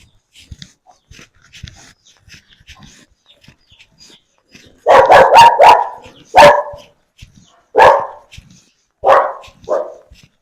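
A dog barks several times, loud and close, in a quick cluster followed by spaced single barks, with faint clicks and rustles before.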